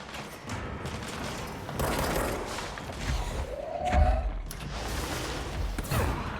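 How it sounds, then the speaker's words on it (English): Video game gunfire in Control: a burst of muffled shots and thuds at a distance, mixed with booms and whooshes in a busy game soundscape. "I hear gunshots."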